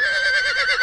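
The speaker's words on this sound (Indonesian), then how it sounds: "Kuda." A horse neighs in the DK Play & Learn Reading and Counting educational computer game from 2001, a short wavering whinny held loud and steady for under a second, heard alone.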